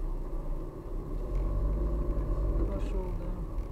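Cars drive and pull out on the Vitebsk highway in Smolensk, a steady low engine rumble from passing traffic, with a person talking over it.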